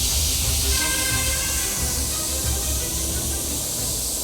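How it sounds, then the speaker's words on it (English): An airbrush sprays Trident sepia brown paint in a steady, loud, close hiss that stays nearly constant and fades slightly toward the end, with no talking. "I'm going to start to airbrush in the actual Meteor"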